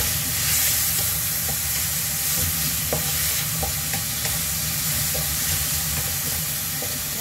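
Ingredients for a pasta pesto salad sizzle and fry steadily in a pan while browning, a close, continuous hiss with scattered small pops and the occasional scrape of stirring.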